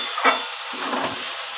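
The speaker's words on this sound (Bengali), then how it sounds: "সামান্য একটু জল দিয়ে কষিয়ে নিচ্ছি ভালো করে" Spice paste for rohu fish curry, moistened with a splash of water, fries and is stirred in a pan, making a steady close sizzling hiss with a few brief scraping accents and no voices.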